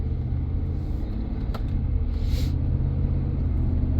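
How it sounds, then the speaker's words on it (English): A 2009 Ford F150 with the 5.4 engine drives and accelerates, giving a steady low rumble from inside the cab that swells slightly toward the end, with no talking. "now we're gonna go take it for a drive"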